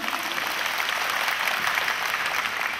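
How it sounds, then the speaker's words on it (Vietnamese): Sustained audience applause welcoming a speaker at a 2016 self-positioning and startup-thinking seminar, a dense, even wash of many hands clapping throughout, loud and continuous with no break. "một lần nữa là những chào vỗ tay thật giòn giã"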